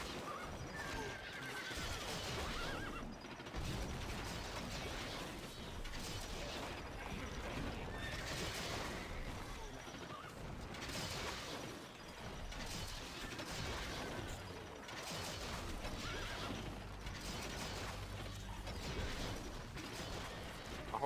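Horses of mounted horse archers in the Stronghold Crusader strategy game whinny and neigh amid a busy, continuous mix of hoof clip-clop and mechanical clicking battle effects, steady and fairly loud throughout.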